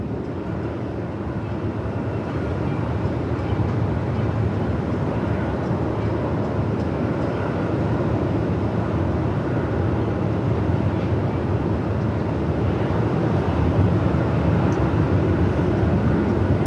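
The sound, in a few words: Boeing 737-800 airliner arriving from Tasmania at Melbourne Airport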